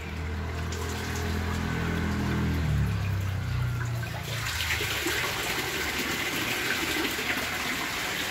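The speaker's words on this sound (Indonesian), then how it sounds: "Ini pompa airnya" A water pump fills a small catfish pond beside a house, pouring and gushing loudly and continuously up close, with a motor hum underneath that fades after a few seconds while the splashing rush carries on.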